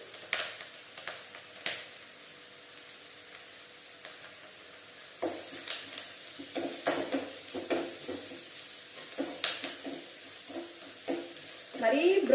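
Onions frying in a pan for a quick poori curry, with soft crackling sizzle and intermittent stirring scrapes that grow busier and louder partway through, no voices present.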